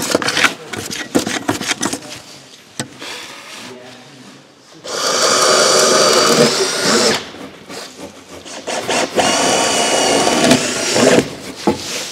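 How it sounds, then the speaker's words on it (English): A power drill whirs into a timber post for a timber-framed barn wall frame in two sustained bursts, loud and close, separated by softer handling noises and brief talk. "Now I just move the drill to the side, but Howard's got his special tool"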